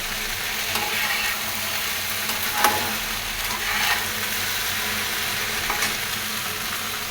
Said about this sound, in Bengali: ফ্রেশ গ্রিন ঢেঁড়স ভাজি হচ্ছে।